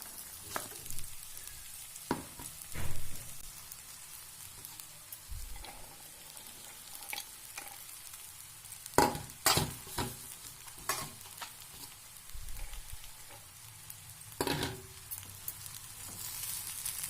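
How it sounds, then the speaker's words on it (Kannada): Soaked sabudana stirred into a hot tempering in a pan, with a soft steady sizzle beneath repeated scraping and knocking of the spoon against the pan, close and moderately quiet. "ಇವನ್ನ ಒಗ್ಗರಣೆಯಲ್ಲಿ ಹಾಕಿ ಕಲಸೋಣ"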